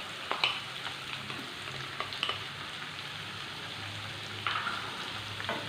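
Two medium onions, finely chopped, frying in a pan: a steady, close sizzle with occasional light scrapes and taps of a stirring spoon, no voices.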